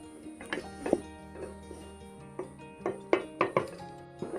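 A pot lid comes off and vegetables cooking with sago and mung dal are stirred, giving light metallic clinks and scrapes at irregular intervals, with steady tonal music in the background.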